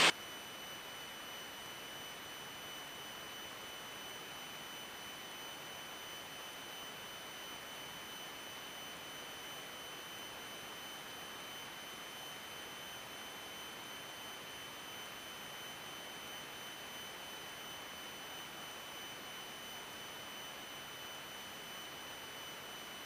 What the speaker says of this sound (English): You're flying the airplane.